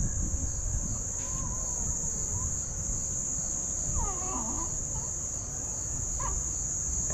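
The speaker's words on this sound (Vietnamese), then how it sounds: "Đấy, tiếng dế" Crickets chirp at night in Africa, with a thin, continuous high-pitched trill running steadily throughout. A few faint, distant bird or animal calls rise briefly underneath.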